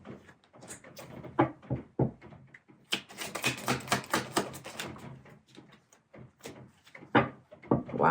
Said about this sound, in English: If you don't like seeing this shuffling, a lot of people enjoy being part of the shuffle.